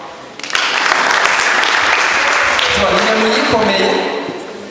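An audience at a talent show breaks into loud, sustained applause that swells quickly and holds for several seconds before tapering off.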